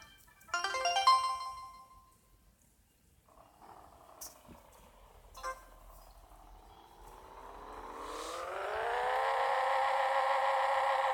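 Simulated car engine in a racing video game drag race, quiet at first, then rising into a sustained, steadily climbing rev that holds loud toward the end.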